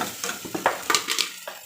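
Potatoes being stirred in a frying pan for aloo paratha, heard as short scraping and sizzling strokes in an irregular rhythm, close and moderately loud, with no voices.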